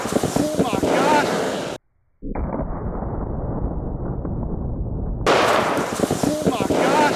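Loud gunfire aimed at an Olight Warrior X flashlight outdoors, with wind buffeting the microphone and a brief dropout after the first burst; people talk excitedly around the shots.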